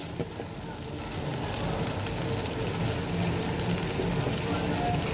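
Potol dopiyaza with tomato sauce fries and is stirred in a pan, with a steady, moderately loud sizzle that thickens after the first second and continues evenly, close by.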